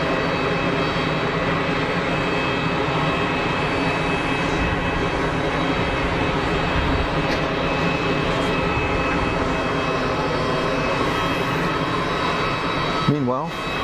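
An Airbus A320neo with its larger engine fan rolling along the runway at Geneva Airport, a sustained, loud jet whine and rumble that stays even for the whole stretch, with a brief sharp sound right at the end.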